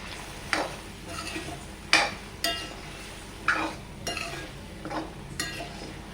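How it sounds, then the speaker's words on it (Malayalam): Elephant foot yam stir-fry being stirred in a pan, giving repeated scraping and clinking strokes of a spoon against the metal over a soft background sizzle, about eight bursts spread irregularly across the stretch. "ചേന അതിലേക്ക് ഇട്ട് കൊടുത്തു. നല്ലോണം മിക്സ് ചെയ്ത് കൊടുത്തു."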